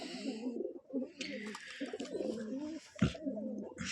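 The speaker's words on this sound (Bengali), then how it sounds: "এটা কবুতর মাশাআল্লাহ" Rajshahi giribaj pigeons coo in repeated soft throaty bursts close by, with a few sharper rustles and a thump amid the calls.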